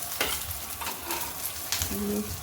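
Cumin seeds, with a green chilli going in, roasting in a pan for a crushed chilli thecha, giving a soft, close crackle with a few scraping stirs and a brief clink of a utensil against the pan.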